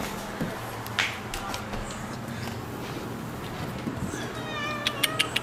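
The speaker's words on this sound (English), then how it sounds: "here's the house cat" A house cat meows softly indoors, a few faint cries amid quiet room noise and sharp clicks, with someone talking briefly.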